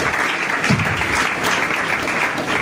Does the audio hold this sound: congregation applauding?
yes